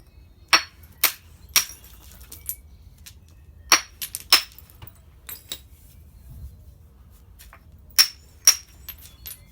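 Sharp stone-on-stone clicks of flint knapping with a hammerstone, shaping a replica Boxgrove handaxe, ring out irregularly, some strikes in quick pairs, against a quiet low background hum.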